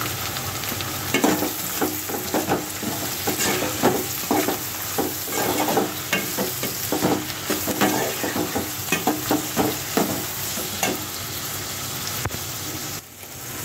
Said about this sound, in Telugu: తర్వాత కోసి పెట్టుకున్న టమాటా ముక్కలు వేస్తున్నానండి.